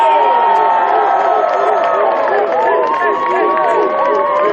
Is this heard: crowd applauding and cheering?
yes